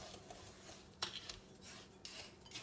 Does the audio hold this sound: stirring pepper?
yes